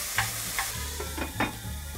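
A chicken thigh fries in a dry pan with no added oil, releasing its own fat. Steady close sizzling runs throughout with a few soft stirring scrapes and no talk.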